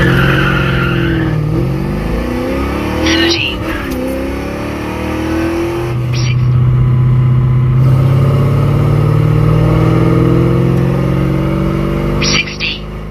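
A car accelerating hard through the gears on a public road in a 0 to 60 run with a $20 performance mod fitted: a loud, close engine note climbing in pitch, with several upshifts breaking the rise.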